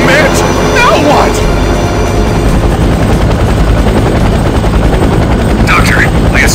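A helicopter flies close by, its rotor and engine drone loud and steady throughout, with faint higher whines rising near the start and end.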